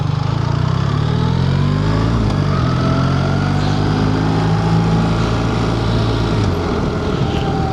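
A BMW R1300 GS motorcycle engine running on a snowy winter countryside ride, a loud, close, continuous low drone with slowly shifting pitch and wind rush layered over it.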